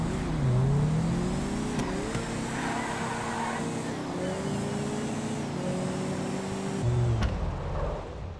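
Street race cars accelerating in GTA 5, engines revving loudly and continuously with rising and falling pitch as gears shift, a near, sustained roar with a brief change in tone near the end.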